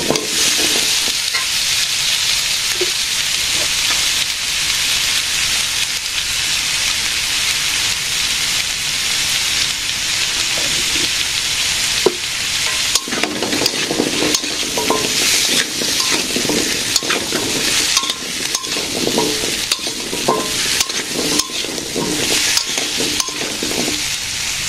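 Eggs stir-fried in a pan in a simple village kitchen make a loud, continuous sizzle, with frequent scraping and stirring clicks throughout and no speech.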